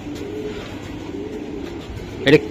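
A female Madrasi huma pigeon gives one short, close coo near the end, after a stretch of quiet background hum.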